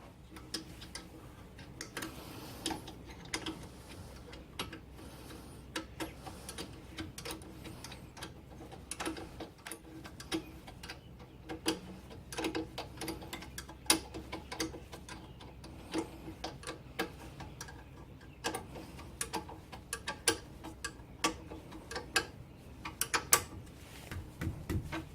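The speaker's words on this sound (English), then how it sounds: "Right, 12mm spanner." A 12mm ratchet spanner turning a nut on a Toyota MR2 gearbox, giving a quiet, irregular run of small ticking clicks and mechanical clatter spread over the whole stretch.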